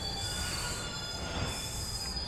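Metro subway train wheels squeal with a sustained high-pitched screech over a steady rumbling roll, loud and constant throughout.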